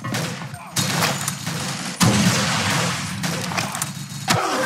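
Mortar fire and explosions from the video game Blockade 3D: several loud booming blasts and thumps land at intervals, each followed by a rumbling, crackling tail.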